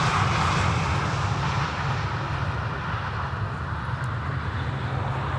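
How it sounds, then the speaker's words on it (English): A Cathay Pacific Cargo aircraft arrives at Amsterdam Schiphol with its landing gear extending, giving a steady broadband engine roar that fades slightly over the span, with no voices. "it's Cathay Pacific Cargo, flight 65. Gear is extending."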